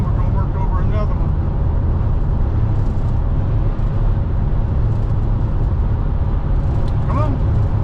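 Steady, loud road rumble of traffic on the I-85 highway, heard from inside a moving vehicle as cars pass, a continuous drone with no distinct single pass-by.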